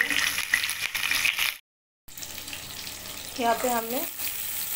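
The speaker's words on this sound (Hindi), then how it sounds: "इसमें अभी ऐड करेंगे हम ऑनियन का स्लाइसेस" Sliced onions hiss and crackle in hot oil with cloves and black pepper in a kadai, a steady close sizzle broken by a brief silence, then a short spoken phrase over the frying.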